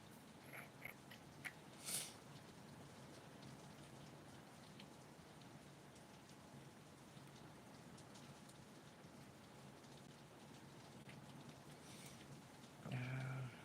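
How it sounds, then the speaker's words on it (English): Steady rain falls on a surface through a thunderstorm, a dense continuous patter filling the background with a few brief knocks and handling sounds. "y'all hear that rain?"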